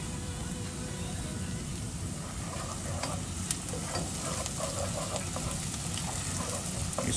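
Ginger garlic paste stirred into onions frying in oil, a steady crackling sizzle with scraping spoon strokes throughout, close and alone.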